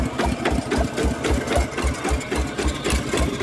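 A two-wheel tractor's small single-cylinder engine idling at low revs, a steady rapid chugging knock with a rattly mechanical clatter, close by and continuous.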